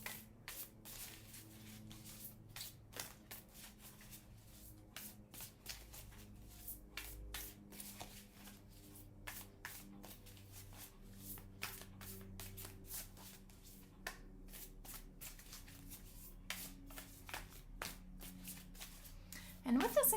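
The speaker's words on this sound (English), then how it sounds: "these are heart-shaped cards, which are a little bit tricky to shuffle here." Heart-shaped tarot cards are shuffled repeatedly in soft riffling bursts, a quiet papery flutter that comes and goes over about twenty seconds.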